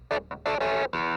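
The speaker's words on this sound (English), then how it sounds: "Here's the dry clavinet." A dry clavinet keyboard with no effects plays short, choppy bursts, a few clipped stabs, then a longer sustained chord close up, with nothing else under it.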